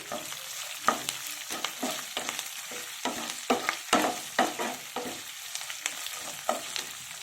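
Ginger paste sizzles in hot oil for a raw mango rice tempering, with steady frying hiss and repeated sharp stirring scrapes of a spoon against the pan, close and fairly loud, with no talking.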